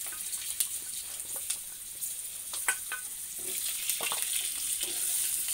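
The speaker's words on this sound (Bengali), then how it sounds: "আলুটা আগে আমি একটু ভেজে নেব" Potato pieces frying in hot oil in a pan, alongside bay leaf and cumin, for a mutton curry: a soft continuous sizzle with scattered crackles and pops, fairly quiet and close, no voices.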